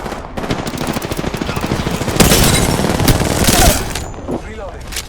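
Rapid automatic gunfire from the Apex Legends video game, heavy ammo weapon, sustained bursts of dense shots with louder stretches in the middle, plus faint game voice lines underneath.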